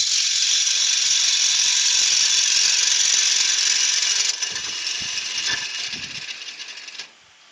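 A gouge cuts a wooden coin bowl spinning on a lathe, a steady bright hiss of shaving that thins and lightens before fading out near the end.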